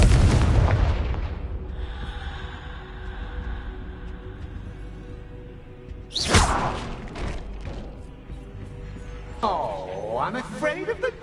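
Confringo spell blasts in Hogwarts Legacy: a loud booming explosion opens, then a whooshing blast midway and another fiery burst near the end, with game sounds and speech between them.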